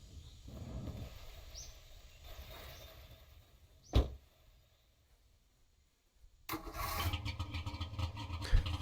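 A car engine cranks with a short burst, falls silent, then turns over and settles into a steady low idle, with faint birdsong in the background.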